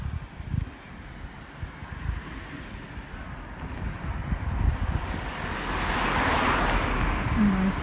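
A car passing on a quiet road in Japan, a low rumble building into a louder rush of tires toward the end, with wind buffeting the microphone.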